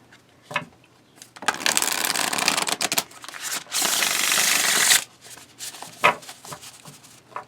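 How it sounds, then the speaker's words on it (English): Tarot cards given an overhand shuffle by hand in two long rustling runs, with a few isolated taps and flicks before and after, close and fairly loud. "it's a satisfying overhand, too, because the texture of the cards makes a nice sound"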